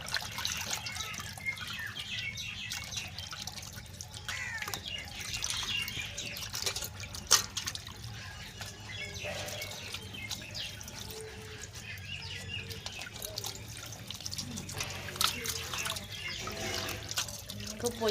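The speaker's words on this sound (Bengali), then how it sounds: "আমি এখন পরিষ্কার করে জল দিয়ে ভালো করে ধুয়ে নেবো।" Water splashes and trickles while cleaned chicken skin is rinsed, a continuous low wet sloshing with irregular drips and clinks, and faint bird chirps in the background.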